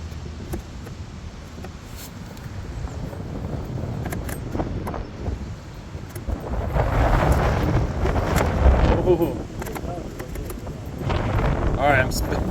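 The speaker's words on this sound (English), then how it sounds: "so wind, do your thing. Push us back the other way." Strong gusts of wind buffet a bass fishing boat out on open water, a steady rumble of microphone-battering wind that swells louder midway, while someone talks over it.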